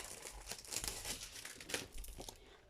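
Sheet of paper crinkling and rustling while being handled to present a scrapbooking album, a close, soft, continuous crackle with no talk.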